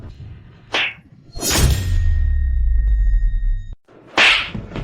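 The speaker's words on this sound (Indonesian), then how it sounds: "Aku akan penuhi 2 tamparan pas" Two sharp, whip-like slaps across a face crack out, each with a swishing whoosh, separated by a swelling low rumble.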